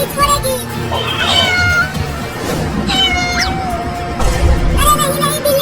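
Cartoon cat meowing repeatedly in rising, wavering cries over a steady music bed, loud and close, with a cartoon voice speaking between the meows.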